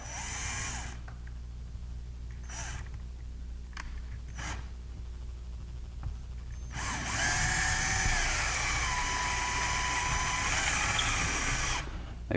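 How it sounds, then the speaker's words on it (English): A power drill boring holes in drywall whines in short bursts, then runs steadily and louder for several seconds, close by and without any talking. "we're just going to drill our holes here"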